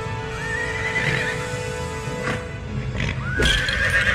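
Horse neighing in a Lego video game, two rising whinnies with hoofbeat-like clatter over steady game music and background sounds, loud and close.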